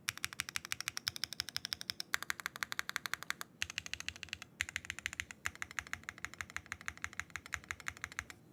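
Someone types on a custom Zoom65 V3 keyboard with a polycarbonate plate, flex-cut PCB, no foam, SWK Ghost Dragon switches and GMK keycaps, producing quick, fairly quiet clacky keystrokes in steady bursts with brief pauses.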